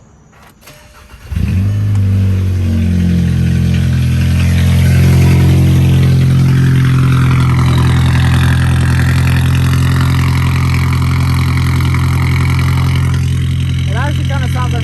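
A straight-piped car engine cranks briefly and fires up, then settles into a loud, deep, raspy idle that rumbles steadily up close for the rest of the stretch.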